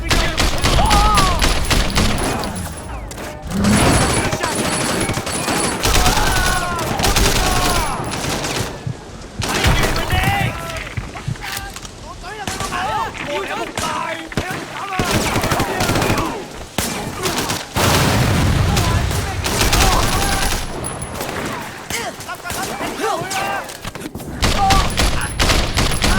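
Continuous gunfire and bursts of automatic weapons in the open-world action game Sleeping Dogs, with a grenade launcher in the fight; loud, dense volleys run nearly nonstop throughout, with a few heavier booms mixed in.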